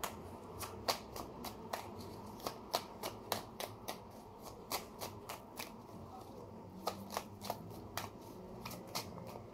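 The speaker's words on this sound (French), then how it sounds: "Alors, je vais rebattre un peu parce que là, c'est trop redondant" Tarot cards are shuffled by hand, giving a quick series of crisp riffling clicks and flutters in an uneven rhythm, close and fairly soft in a quiet room.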